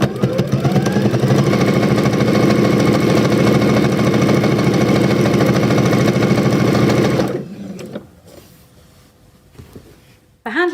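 A sewing machine runs fast and steadily for about seven seconds while top stitching along a fabric doorstop handle, then stops, leaving quiet handling noises and a brief restart at the end.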